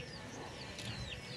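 A desi hen clucks in short, soft, faint calls over a low background murmur, with a few quick chirping notes in the middle.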